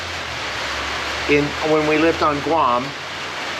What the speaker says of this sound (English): you can hear the rain, I think you can hear the rain